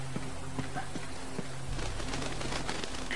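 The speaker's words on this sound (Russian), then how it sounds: "Птички очень экзотичные здесь летают." Exotic birds in Uncharted 2: Among Thieves, chirps and coo-like calls over a low ambient hum, with soft rhythmic knocks and faint background activity.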